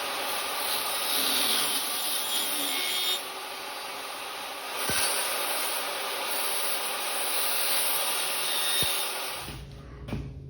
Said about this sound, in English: I'm just going to miter them on the table saw.